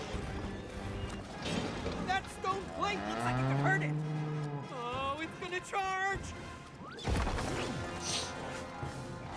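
A cartoonish donkey in the video game It Takes Two lets out a loud, drawn-out bray with wavering pitch, amid crashes, hoof-like clatter and other game effects, with voices nearby.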